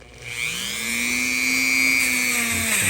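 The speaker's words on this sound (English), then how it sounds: "you could do this with a piece of sandpaper, but I got my little Dremel tool here" A small Dremel rotary tool sands a Cub Cadet 173 cc self-propelled mower engine part, its steady high-pitched whine spinning up quickly and holding loud and close, with no talking over it.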